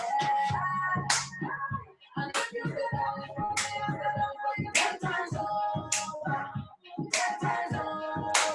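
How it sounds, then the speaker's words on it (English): Hands clapping and slapping in an exercise class, sharp claps in a steady rhythm over upbeat music throughout. "Clap. Give your clap."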